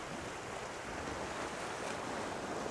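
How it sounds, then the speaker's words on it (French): Ocean waves wash in a continuous broad rush, with wind buffeting the microphone, steady and fairly loud with no voices. "Vous entendez les vagues dans mon micro?"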